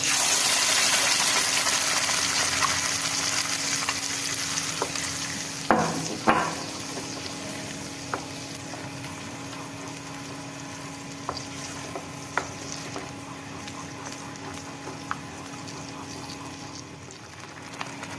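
Spice paste for egg korma sizzling in a pan, a soft continuous fry under occasional scraping stirs and a couple of louder clatters of the spoon against the pot.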